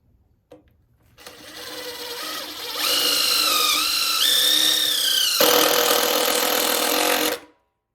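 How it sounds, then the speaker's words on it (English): A power drill drives screws into a whiskey barrel, whining steadily for about six seconds and rising in pitch and loudness midway before stopping. "put pressure against the barrel while you're screwing into it"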